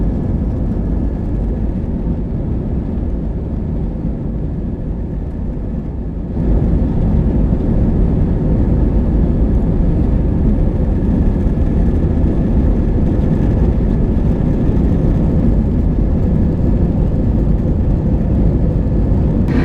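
Airliner engines drone loudly and steadily as heard from a window seat during takeoff and flight, a deep continuous roar that steps up in intensity partway through and then holds.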